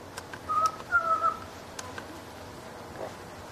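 A pet parrot whistles a few short clear tonal phrases near the start, then a faint chirp later, in a quiet indoor room.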